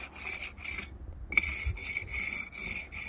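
A steel jointing bar rubs back and forth along the mortar joints of a curved brick wall, giving rhythmic raspy scraping strokes with a short pause in between, close up and moderately loud.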